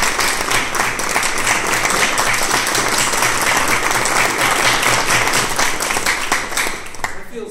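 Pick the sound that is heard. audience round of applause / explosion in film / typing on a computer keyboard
audience round of applause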